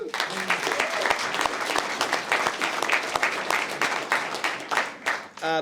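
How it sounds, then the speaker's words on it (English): Loud, dense applause from a roomful of chiropractors at a summit, many hands clapping steadily with scattered sharp claps, slightly uneven and tailing off at the end. "I think that deserves a bit of a round of applause"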